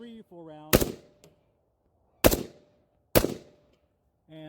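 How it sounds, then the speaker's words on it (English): Three sharp, loud rifle shots in 5.45x39, fired singly with gaps of about a second between them, each followed by a brief echo; someone speaks briefly before and after. "Get it behind it and fire 3 or 4 rounds."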